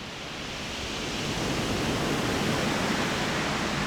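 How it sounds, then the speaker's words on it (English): Steady rain falling, a dense, even hiss that swells over the first second and then holds constant, with no voices. "It began to rain."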